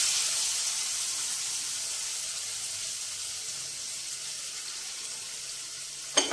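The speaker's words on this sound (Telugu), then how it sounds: "ఇందులో మనం ఉల్లిపాయలు తురుము పెట్టుకున్న ఉల్లిపాయలు వేసేద్దామండి." Grated onions hit a hot pan while a prawn curry is cooked, giving a steady, even sizzling hiss that holds throughout, ending with a short sharp clatter.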